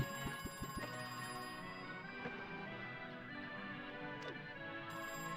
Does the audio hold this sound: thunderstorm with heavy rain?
no